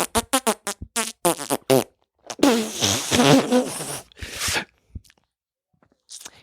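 A voice imitates a saxophone with buzzy, lip-blown honks: a run of short staccato bursts, then a longer wavering wail and a few trailing blasts, close and loud with no other sound.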